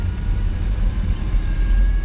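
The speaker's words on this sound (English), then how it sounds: "And that tranny is whining." A Ford Ranger runs at about 1800 RPM with a deep, steady engine drone and a faint, continuous high whine from the transmission riding above it, loud and close, with no voices.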